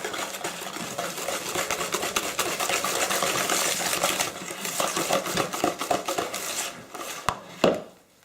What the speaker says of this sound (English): just mix until all these ingredients are blended together